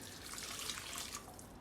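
Beef stock mixed with Vegemite and water pours steadily into a pot of cooked onion and garlic, a continuous close splashing, trickling rush that tapers off near the end.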